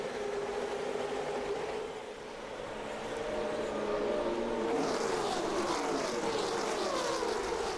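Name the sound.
race cars at Talladega, Aaron's 312 race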